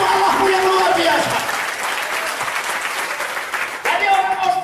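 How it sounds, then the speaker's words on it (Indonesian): A church congregation at a Sunday service applauds, a loud, dense burst of clapping that dips slightly midway then swells again, with a voice speaking over it at the start and end. "Yang di belakang berikan tepuk tangan untuk Allahmu yang luar biasa."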